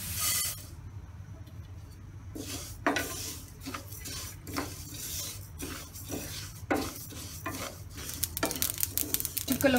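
Whole spices such as mustard seed and ajwain dry roasting in a pan give faint crackles and rustling under repeated clinks and scrapes of a utensil against the metal, growing busier toward the end.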